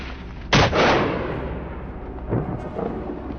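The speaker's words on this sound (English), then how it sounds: "he pulls the trigger and gunshots ring out in rapid succession" A hunter fires at wild boars on an American farm: one sharp, loud gunshot rings out, followed a couple of seconds later by two fainter shots.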